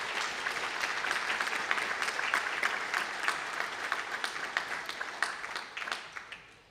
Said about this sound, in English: Ladies and gentlemen, let's give another round of applause to all the speakers.